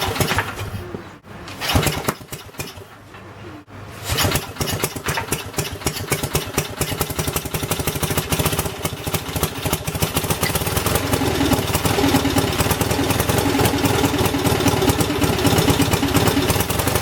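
Lincoln LincWelder 225 engine-driven welder being pull-started: a couple of short sputtering tries, then the engine catches and settles into a steady, loud idle that continues to the end.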